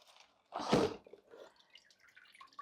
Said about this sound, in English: you can see my nutrient solution dripping.